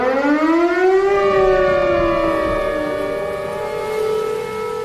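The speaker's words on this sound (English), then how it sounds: "people who live in Tornado Alley are used to hearing, and even ignoring, a lot of sirens." A civil defense tornado warning siren winds up into a loud, sustained rising-and-falling wail with rich harmonics, steady and alone for the whole stretch.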